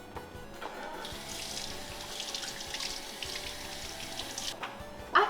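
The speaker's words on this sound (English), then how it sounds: "we just want to wash your hands just to be sanitary and prevent salmonella" Tap water running steadily into a sink while hands are washed, a constant hissing splash with a few brief clunks at the start and end, no talking.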